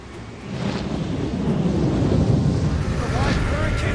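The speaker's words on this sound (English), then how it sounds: "A live hurricane." Roaring hurricane winds whipped up by a storm creature that is part bird, part storm and part airship in a Final Fantasy game, a loud sustained rumbling gust that swells and holds steady, with faint voices underneath.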